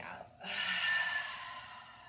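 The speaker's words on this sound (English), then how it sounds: "Breathing out." A slow, deep breath released during a morning yoga session, a soft airy exhale swelling after a short pause and trailing off gently, close and alone.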